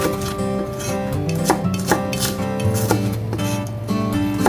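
A knife coarsely slices shallots on a board in a home kitchen, a rapid run of close, crisp chops in an uneven rhythm over a background of steady music.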